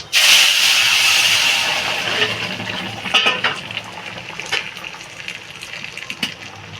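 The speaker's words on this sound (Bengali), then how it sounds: "তরকারিটা আবার ঢেলে দেবো" Bengali crab curry is poured back into a hot pan, setting off a loud, gushing steam hiss that quickly settles into bubbling and scattered clinks of utensils against the pan.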